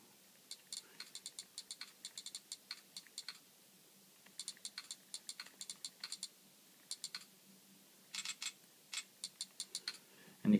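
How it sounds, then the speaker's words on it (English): Quiet tapping on a smartphone's Google keyboard, soft clicks in quick bursts separated by short pauses, faint and close with no talking. "I just type something with the keyboard"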